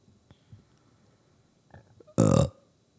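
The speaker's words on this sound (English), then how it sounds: "Stop burping in the mic." A single loud, close burp rises abruptly after a few quiet seconds of faint background noise.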